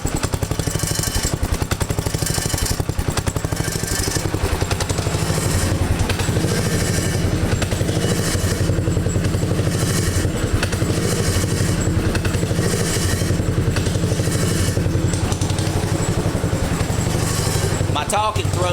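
A small engine held at full throttle through a homemade muffler, a loud, continuous buzzing drone with a rattly edge that stays steady for the whole stretch, close to the listener.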